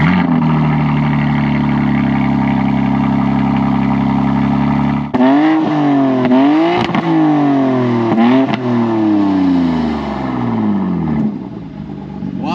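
A 2023 BMW G80 M3 engine, modified with aftermarket exhaust valves, holds a loud steady idle, then revs hard several times, each rise and fall sweeping up and down close by, with no talk.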